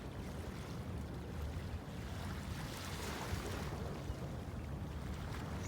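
Seaside beach ambience in Jamaica: a soft, continuous wash of waves and wind blankets the shore, fairly quiet and steady with no voices.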